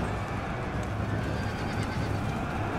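Horse neighing amid battle noise in the Total War: Thrones of Britannia video game, a dying horse's whinny steady under constant clamour, with hoof clatter mixed in.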